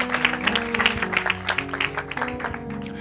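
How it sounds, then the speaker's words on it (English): A church congregation at a Sunday morning worship service claps in welcome, scattered hand claps over a sustained musical tone and room murmur. "give up a round of applause, please"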